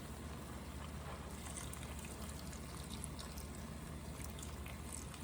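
Chicken stock pouring and splashing from a carton into a pot, a steady liquid stream running for several seconds at close range with no talking.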